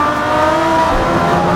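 Lamborghini GT3 race car engine at Brands Hatch, a loud, steady, close-up droning roar held at high revs without a break.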